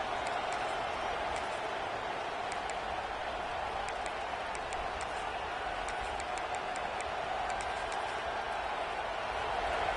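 A stadium crowd at a Penn State versus Michigan college football game roars in a steady, dense wash of noise with scattered sharp whistles and shouts, loud and continuous throughout.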